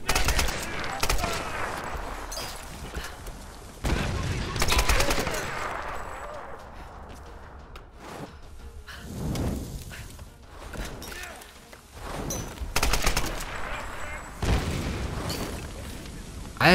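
Dynamite explosions and rapid gunfire from the Tomb Raider video game, heavy booms and bursts of shots recurring in waves over about seventeen seconds, with a voice speaking at times between blasts.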